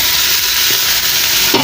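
Tomato frying in a hot pan for a plantain, meat and potato dish gives a loud, steady, close sizzle and hiss that continues without a break.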